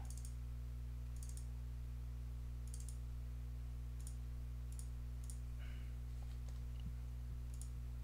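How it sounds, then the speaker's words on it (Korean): Sparse, faint clicks of keyboard keys tapping at an uneven pace over a steady electrical hum. "요거 그냥 한번 간단하게 타이핑 해볼까요?"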